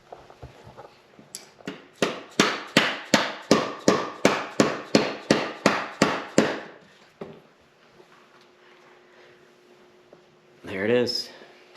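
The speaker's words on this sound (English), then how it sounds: "so I just use the dead blow hammer" About fifteen heavy, evenly spaced dead blow hammer blows strike metal in a steady rhythm up close, driving a drive sprocket part on a Ski-Doo Olympic snowmobile, then stop; a short voice follows near the end.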